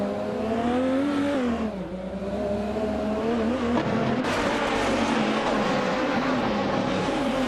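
A 2004 Vista Storm GT races in a video game, its engine droning steadily at high revs and close up, with a sudden rise in pitch and grit partway through, and no talk.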